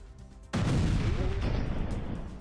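US missile strikes hit Houthi targets in Yemen, a sudden heavy blast that opens into a deep, sustained rumbling roar, loud and lingering.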